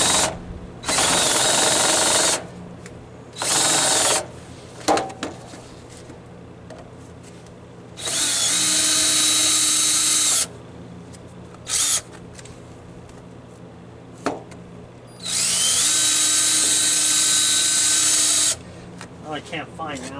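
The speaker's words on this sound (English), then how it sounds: "I'm taking my screws back out." A power drill whines in several long bursts as it backs screws out of 4x4 lumber near a Woodmizer LT15 sawmill, with short pauses, a brief blip and clicks between runs.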